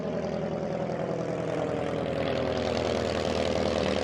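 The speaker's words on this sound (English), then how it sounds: "Up in the sky, they could see a small plane approaching." A small propeller plane drones overhead, its engine a steady buzzing hum with a rhythmic airscrew beat that holds loud and even for the whole stretch, with no talk.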